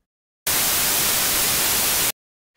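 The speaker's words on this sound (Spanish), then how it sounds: "incluso tenemos ruido." Noise waveform from a Sylenth1 synthesizer oscillator, a steady hiss of bright static that starts abruptly, holds at even loudness for under two seconds and stops cleanly, heard alone without talking.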